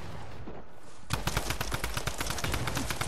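Sustained rapid automatic gunfire in a shooter video game starts abruptly after a second of muffled noise and keeps rattling loudly to the end.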